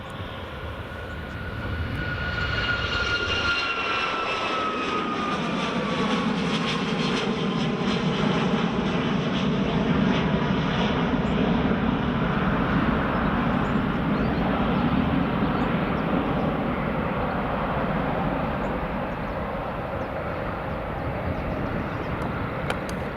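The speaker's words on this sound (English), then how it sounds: "Here comes the Ryanair Max." Ryanair Boeing 737 Max jet airliner at Edinburgh Airport, a loud sustained engine roar that swells in and holds steady for over twenty seconds with a falling whine, then eases slightly at the end.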